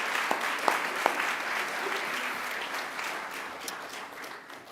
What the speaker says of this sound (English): I ask you to give them a round of applause too in thanks.